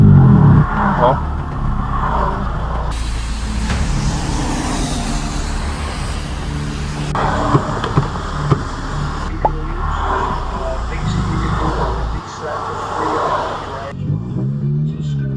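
A lowered stance car that has broken down revs its engine while trying to reverse, a loud strained drone with surges. People talk over the engine throughout.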